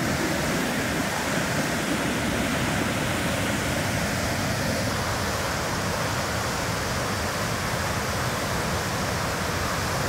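Steady, loud rush of a river in Jasper, Alberta, a broad continuous roar with no letup, close by and unbroken for the whole stretch.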